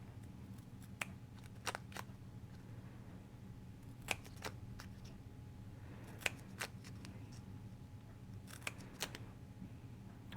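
Small scissors snip paper lace trim in crisp, irregular clicks, a few at a time with short pauses, over a low steady background hum.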